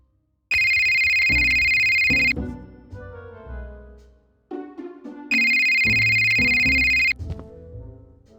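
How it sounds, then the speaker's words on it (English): A phone in the Scott Whiskers video game rings in two long, loud electronic bursts separated by a stretch of softer game sounds and musical tones. "when a phone suddenly starts ringing"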